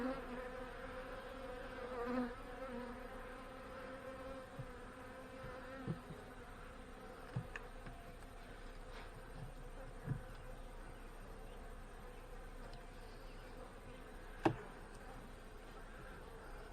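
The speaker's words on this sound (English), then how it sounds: "there's not a great deal of bees in here" A steady, low hum of many honey bees buzzing inside a hive fills the air continuously, with a few soft knocks and clicks now and then.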